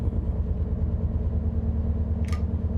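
A train engine in Train Sim World 6 on the Riviera Line runs as a steady, loud, low rumbling drone, with one brief higher click near the end.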